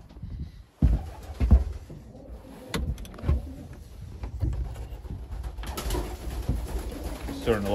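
Pigeons coo softly inside a breeding loft, steady low burbling calls at moderate distance with shuffling and occasional thumps around them, and no one talking.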